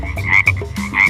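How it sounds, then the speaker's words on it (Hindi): Frogs croak near a pond in a loud, close, continuous chorus of overlapping throaty calls with no talking. "उसे उस तालाब के पास कई सारे मेंढक दिख जाते हैं।"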